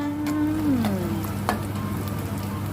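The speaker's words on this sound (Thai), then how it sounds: "เราก็มาทอดใหม่เพิ่มความกรอบให้" Chicken and crispy pork rind frying in hot oil, a steady close sizzle with faint crackles and a few sharp pops, one brief high tonal whine near the start.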